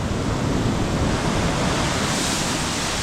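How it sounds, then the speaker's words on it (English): Strong, rough ocean waves crashing on a beach with a dangerous current: a loud, dense, continuous roar of surf and wind, steady and close, with no voices. "These waves here are nuts. The waves are very angry."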